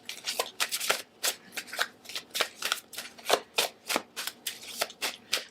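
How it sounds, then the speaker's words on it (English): Oracle cards are shuffled by hand in a quick, steady run of crisp riffling bursts, about two per second, close up and with no talk over them. "So we're going to shuffle from our sexual magic oracle cards."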